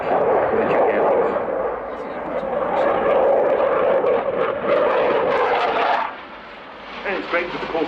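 A Czech Air Force military jet roars past fast and loud in an airshow pass at about 400 knots, its engine noise rising and then cutting off sharply near the end, while a commentator talks over it.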